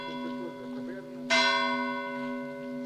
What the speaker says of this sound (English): we can also hear the church right now and the church bells.